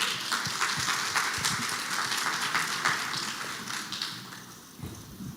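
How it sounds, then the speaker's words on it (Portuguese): Audience applause at a church-hall science and faith Q&A as guests are welcomed onto the stage, a dense, steady patter of many hands clapping throughout, fading slightly near the end. "Vamos recebê-los com aplausos."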